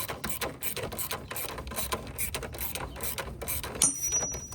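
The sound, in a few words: ratchet with swivel and socket on BMW engine mount bolt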